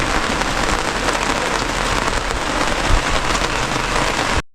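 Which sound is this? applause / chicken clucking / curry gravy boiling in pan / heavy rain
heavy rain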